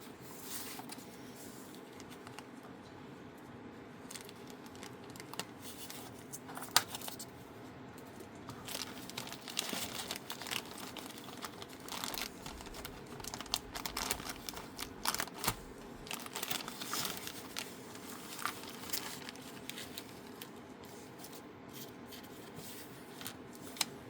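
Hands rummage through a plastic bag holding parts for a Blair Line Greene's Feed and Seed model railroad building kit, with soft, irregular crinkling and rustling that comes and goes, close and fairly quiet.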